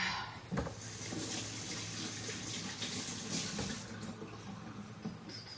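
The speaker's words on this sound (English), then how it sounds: "Rinse the flour off my hands." Tap water runs steadily as flour is rinsed off hands at a kitchen sink while making an oatmeal cake, a continuous close splashing rush with brief shifts in the flow.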